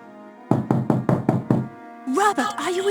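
Five firm knocks on a stateroom door aboard the Titanic in a video game, evenly spaced and close, followed by a voice speaking.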